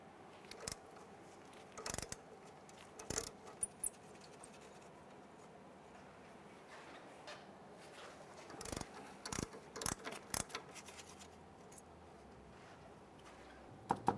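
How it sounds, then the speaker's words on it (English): Ratchet with a 10mm socket loosening the speed sensor and brake hose brackets on the front strut assembly of a 2011-2016 Hyundai Elantra, quiet bursts of clicking separated by pauses. "With a 10mm socket, we're going to remove our speed sensor bracket and our brake hose bracket from the strut assembly."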